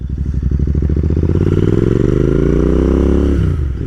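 A loud Royal Enfield Interceptor 650 motorcycle with S&S slip-on exhaust pipes revs steadily up and down with a deep, throaty exhaust rumble, close by and alone.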